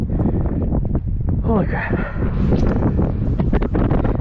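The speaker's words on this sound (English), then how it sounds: "A bit windy today." Wind buffets the microphone of a rider out on a new bike, a constant low roaring rumble throughout, with someone speaking briefly over it.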